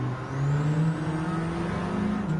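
A 2014 Alfa Romeo 4C races in Gran Turismo 7, its engine droning with a steady tone that climbs and shifts under acceleration, heard alone for a couple of seconds.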